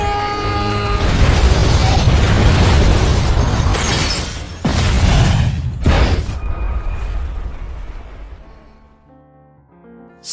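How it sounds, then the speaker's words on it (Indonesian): A large ship explodes in a film with a loud, sustained roaring blast. Rumbling booms and crackling debris follow, gradually fading over about ten seconds. "ledakan besar terjadi yang menyebabkan kehancuran seluruh kapal"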